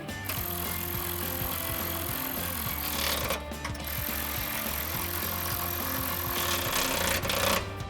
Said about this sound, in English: just grab your ratchet, 13mm socket, and tighten all these down